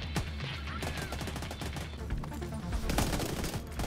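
Rapid bursts of MP5 submachine gun fire in The Division 2, dense and loud, with a heavier cluster of shots near the end and a voice briefly audible underneath.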